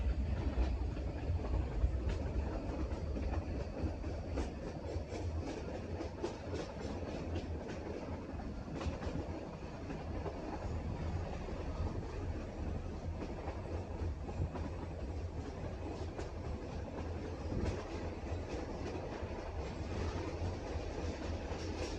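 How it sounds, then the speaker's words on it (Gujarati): A metre-gauge train runs through forest country near Girnar mountain on the Junagadh to Sasan Gir line, its wheels clattering in a steady, continuous rumble that stays close and loud throughout, with no voices. "ગિરનાર પર્વતની એક્ઝેટ નજીક પહોંચી ગઈ છે ટ્રેન સાવ પાસેથી નીકળે છે"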